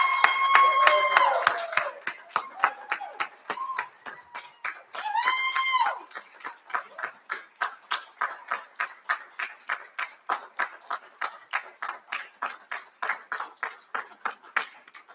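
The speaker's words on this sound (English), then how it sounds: "give them an even more enthusiastic round of applause for" Graduates are applauded at a school recognition ceremony, with a crowd clapping steadily for several seconds before the claps thin into a slower, sparser rhythm, and a few tones ring out near the start.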